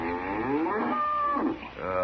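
A cow lows in pain, a radio drama sound effect: one long, strained moo swelling and bending in pitch, then a second rising groan, loud and close with no talk over it.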